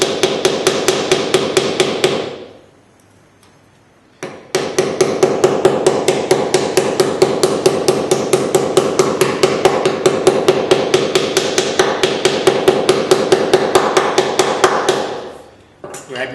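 A hammer taps a wooden inlay strip down into a tight woodworking groove, giving a steady run of rapid, close, even knocks after a brief pause near the start.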